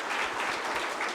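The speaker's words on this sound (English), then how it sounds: "Can we give Carter and Thomas another round of applause?" A crowd gives a round of applause at a Veterans Day ceremony at a community college, brisk, dense clapping from many hands, steady and moderately loud for about a second, alone without talk.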